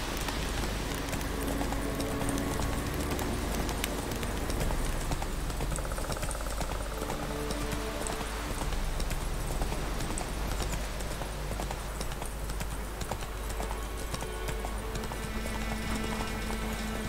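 Hooves of Roach, Geralt's horse in The Witcher 3 video game, pound in a steady, fast galloping rhythm, loud and continuous over a dense layer of ambient game sound.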